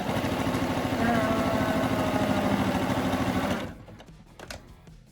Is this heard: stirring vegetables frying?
no